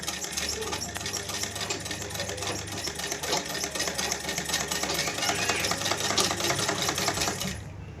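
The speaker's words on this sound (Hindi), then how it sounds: "अब हम इस साइड भी सिलाई लगाएंगे" An electric sewing machine runs steadily, stitching along the edge of a salwar-suit neckline in dense, rapid mechanical chatter that holds unbroken for about eight seconds before stopping abruptly.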